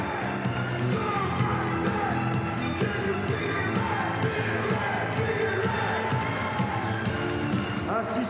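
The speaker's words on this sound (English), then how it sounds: "Applaudissements sportifs pour Hapoel Holon et applaudissements pour la victoire à la JDA Dijon." Arena crowd at a Basketball Champions League game between JDA Dijon and Hapoel Holon cheers and claps steadily throughout, with shouts, whoops and a murmur of voices over the noise.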